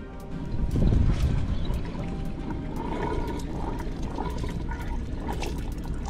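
Water pouring steadily into the rear water tank of a four-wheel-drive vehicle on a Cape York trip, a continuous splashing gush with a louder surge early on, then an even trickling flow, no voices.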